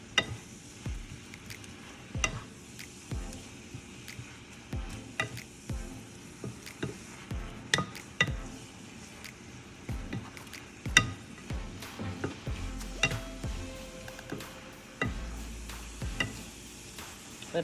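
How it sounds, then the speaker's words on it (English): Spinach wilting down in a hot pan for bourbon steak, with a steady soft sizzle under repeated stirring clatters and utensil taps, close and fairly quiet. "you all know that spinach definitely cooks down"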